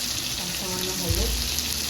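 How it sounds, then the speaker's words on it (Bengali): Tomatoes with salt and turmeric frying in a pan for a pabda fish curry, giving a steady close sizzle with a brief stir partway through. "তাতে টমেটোগুলো একটু ভাজা ভাজা হয়ে যাবে।"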